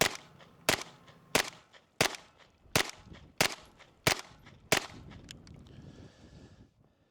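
A PSA AK-V 9mm carbine fires eight evenly spaced, sharp shots at an outdoor range, each crack loud and close with a brief ringing decay, before the firing stops and the air settles into quiet.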